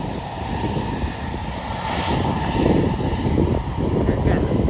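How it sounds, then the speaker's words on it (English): A Southwest Airlines Boeing 737 MAX 8 jet takes off, its engines giving a loud, steady roar that swells slightly and holds throughout. "this is a Southwest Boeing 737 MAX 8 going to Denver"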